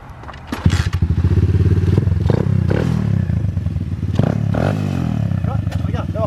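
A motocross bike's engine runs close by, idling and revving with a rough, clattering mechanical texture, some scraping and thudding throughout.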